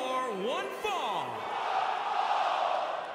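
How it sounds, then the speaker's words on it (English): A wrestling crowd at a ladies' night show roars and cheers before a one-fall match, a steady loud wash of voices with rising whoops and shouts near the start. "it sounds to me like the crowd is more than ready for this one"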